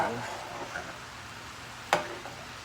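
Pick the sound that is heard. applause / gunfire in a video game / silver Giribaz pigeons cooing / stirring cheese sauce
stirring cheese sauce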